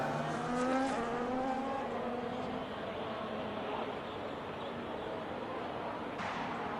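Race cars in the F1 25 video game during a league race at Silverstone, a steady engine roar with rising whine and tire noise at fairly high level, continuous throughout with no talk.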